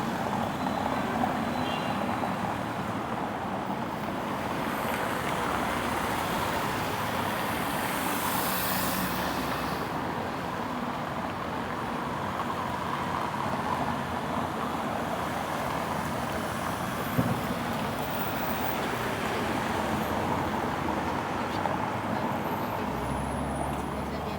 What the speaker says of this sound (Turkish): Burada trafik genel hiç durmuyor.